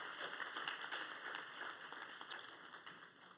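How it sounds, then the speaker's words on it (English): Faint, steady applause from parents and guests at a school graduation ceremony, a soft continuous patter of many hands with no talk over it. "Give a big round of applause"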